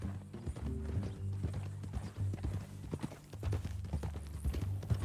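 Horse hooves clip-clop in a steady walking rhythm in the video game Red Dead Redemption 2, moderately close, over a low hum with faint background voices.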